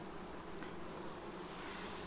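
Honeybees swarming over an open hive during a queen-acceptance inspection of a Saskatraz colony, a faint, steady, dense buzzing drone with no talk.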